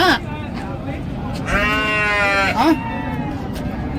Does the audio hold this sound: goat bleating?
yes